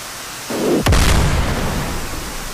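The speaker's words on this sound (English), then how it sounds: "those two missiles just hit each other in the face" Two missiles colliding mid-air in the combat flight simulator DCS World, a sudden sharp blast followed by a deep rumbling roar that slowly fades within a constant background hiss.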